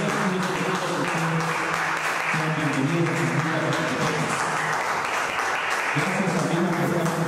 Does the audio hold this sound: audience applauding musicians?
yes